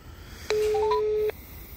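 A single telephone call tone rings out while a number is dialed, lasting just under a second at moderate level, clear and alone against a quiet background.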